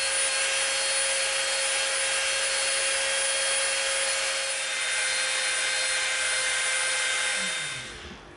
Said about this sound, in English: we're going to slightly round this edge off with our Dremel